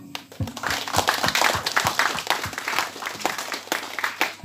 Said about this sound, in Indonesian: mari sekali lagi kita memberikan aplaus kepada empat tungku